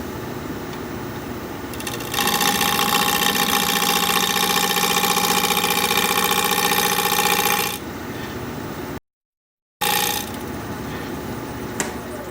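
A wood lathe turns a square bowl at 900 RPM. A steady mechanical drone rises and runs for several seconds, then drops back to a lower hum, with a brief silent gap before the machine noise resumes.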